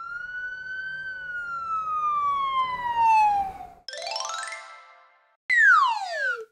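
A police car siren wails in a long falling tone, then gives a quick rising and falling electronic burst and a final sharp descending whoop, loud and close with no voices.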